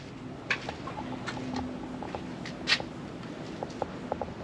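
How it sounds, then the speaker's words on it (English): Australian bush turkeys forage in a Sydney park, giving scattered soft clucks and short scratchy calls under a steady outdoor hum, with sharp rustling clicks dotted throughout. "Enjoy Sydney with these Bush turkeys that are making a mess everywhere."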